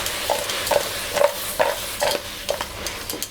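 A cooking pot holding crabs and half a teaspoon of turmeric is shaken by its handle to mix, giving rhythmic scraping swishes about every half second over a faint sizzle.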